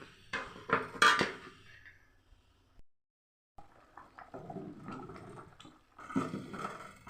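A metal lid clatters onto a cooking pot for chicken kulambu, giving a few bright clinks and scrapes up close, then a pause and softer rustling kitchen handling noises.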